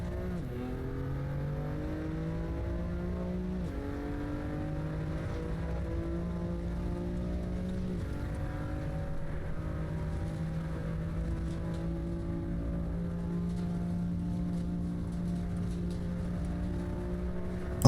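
A race car in a driving game, its engine note falling as it brakes down through the gears and then rising steadily as it accelerates again, a continuous moderately loud drone with no talking.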